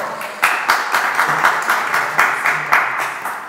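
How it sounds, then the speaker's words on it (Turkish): Studio audience applause at a Turkish quiz show taping, a steady dense patter of many hands with a few sharper bursts, fairly close and filling the room with no voices over it. "Alkışlar."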